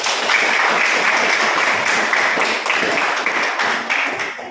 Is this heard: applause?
yes